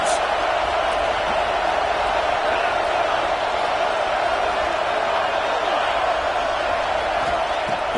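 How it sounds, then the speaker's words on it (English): A large crowd roars throughout a Penn State football game in the stadium, a steady dense wash of cheering noise beneath a commentator's voice. "Listen to the crowd energy here in the early going."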